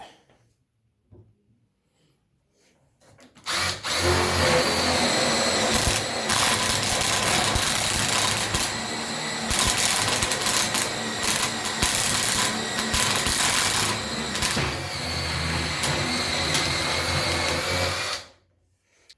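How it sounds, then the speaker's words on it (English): A Parkside PDSSA 20-Li A1 cordless impact driver drives into hardwood, whirring steadily for about fifteen seconds, a loud continuous mechanical buzz that starts abruptly and cuts off at the end. "This is a harder wood, less softer than the other. And let's drill this wood."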